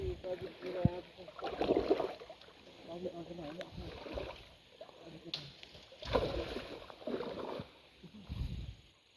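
A boat crosses open water during a fishing trip, with sloshing and splashing against the hull coming in uneven surges, while people talk nearby.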